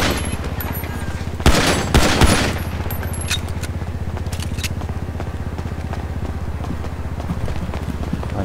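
Gunfire in a FiveM multiplayer game firefight: a few loud sharp bursts early on over a steady low mechanical drone, then quieter continuous background noise.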